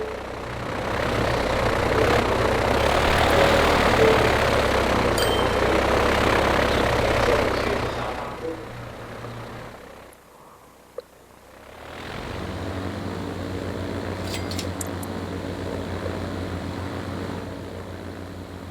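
A propeller aircraft in the Transport Fever 2 campaign drones steadily at close range, then cuts out for a couple of seconds before its engine noise returns just as steadily.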